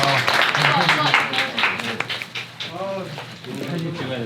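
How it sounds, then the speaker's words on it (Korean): Audience applause at a beginner's sea bass lure fishing seminar, steady clapping heard under ongoing talk and voices throughout. "만약에 발표를 하게 되면 큰 박수를 한번 좀 부탁드립니다"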